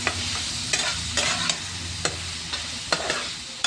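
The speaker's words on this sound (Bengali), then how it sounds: "আমি নাড়াচাড়া করা শুরু করলাম।" Shrimp and potatoes fry in a pan as they are stirred in a watermelon-rind curry: a loud, steady sizzle runs throughout, broken by repeated sharp scrapes and clinks of the spatula at an uneven rhythm.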